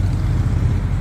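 A Corvette convertible drives past on a town street, a short, loud, low engine rumble close by, with no voices.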